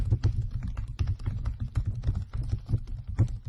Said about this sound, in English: I'm typing at double speed just so we get this all done and dusted